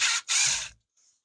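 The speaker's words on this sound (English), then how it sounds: "I'm going to take off this top screw of this bottom hinge" A screw is backed out of a kitchen cabinet door hinge with a tool that ratchets in two loud, close, buzzing bursts, then falls silent apart from a faint click.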